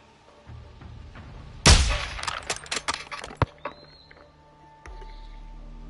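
A single loud, close sniper rifle blast from Modern Warfare 2 cracks out of a quiet background, followed by a scattered rattle of echoing distant gunfire that fades, then a low steady hum.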